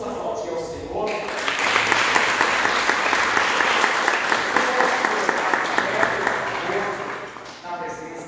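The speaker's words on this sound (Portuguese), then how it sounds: "Vamos aplaudir ao Senhor." Congregation applause during a night prayer service in a church, rising quickly into steady, dense clapping that fills about six seconds before fading out.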